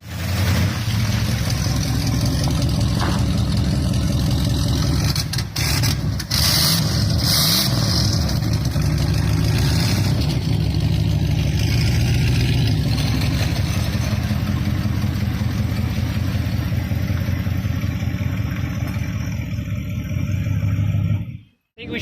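A 1965 Chrysler New Yorker with rust in the subframe runs steadily with a deep, loud engine drone that stays even throughout, and a few brief revs near the middle before it cuts off at the end.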